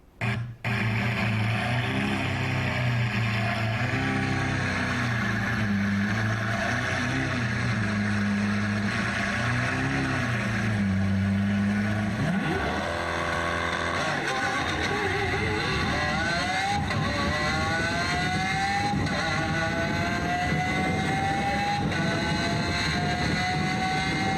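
An electric family sedan and a Lamborghini Spider race side by side over a quarter mile, engines and drivetrains roaring loud and continuous. The pitch climbs in rising whines partway through as the cars accelerate hard.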